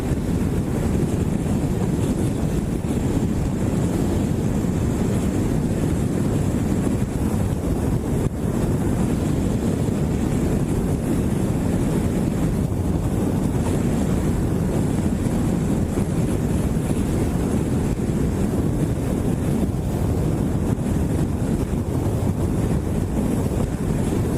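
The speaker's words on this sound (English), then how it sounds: "This is the first day that I've ridden when it's been kind of windy, and every now and then a gust of wind hits me" Wind roars steadily and loudly across the microphone of a rider on a 2013 Kawasaki Ninja 650 motorcycle, a dense unbroken rush with no distinct gusts standing out.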